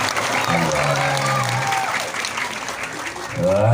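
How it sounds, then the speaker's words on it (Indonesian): Steady applause from a crowd honoring dignitaries at a Maulid Nabi religious gathering in Tasikmalaya, continuous clapping filling the whole stretch with voices mixed in. "Tepuk tangan untuk para tokoh kita."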